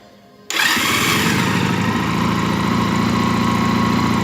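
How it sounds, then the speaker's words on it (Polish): A Junak M11 125 motorcycle engine with unevenly balanced twin carburetors starts abruptly after a short quiet moment. It then settles into a loud, steady idle heard up close. "Uruchamiamy silnik."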